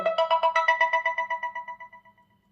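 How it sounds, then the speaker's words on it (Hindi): A smartphone set to silent rings when a find-my-phone command is sent from a smartwatch, giving a rapid repeating electronic ringtone of about twenty quick beeps that fade gradually to silence, heard alone and close. "तो मेरा फोन साइलेंट पे फिर भी रिंग बज रही है।"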